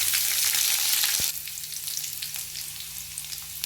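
Garlic frying in hot oil with dried red chillies and curry leaves for a bitter gourd stir-fry, a loud steady sizzle that drops a little after a sharp knock early on, then continues with faint crackles and pops, no talk.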